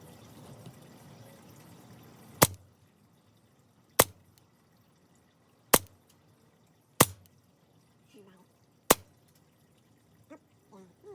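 A toy cap gun fires five sharp, loud cracks spaced about one to two seconds apart in a quiet room, with faint speech near the end.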